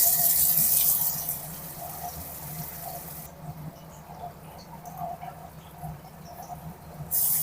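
Water trickles and splashes steadily into ground masala for chana gravy in a pan, with a louder stream at first that then settles into a softer patter.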